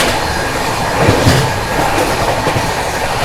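Guwahati to New Delhi Rajdhani Express running at speed near the Ghaziabad outer while overtaking a special train on the parallel line, a loud continuous rumble with rhythmic wheel clatter and brief rattling bursts, heard from on board.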